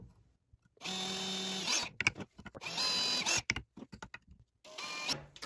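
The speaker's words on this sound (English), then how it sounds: "So let's just put a nice little hole in the top of each of these." A power drill bores a small hole straight down through the middle of a shoe, running in three sustained whirring bursts separated by brief pauses and clicks, close and fairly loud with no talking.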